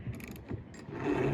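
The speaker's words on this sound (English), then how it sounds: "First pull, then use the wrench." A wrench ratchets an anchor chain on a boat, giving a few short metallic clicks and clunks close to the microphone under low mechanical rumble.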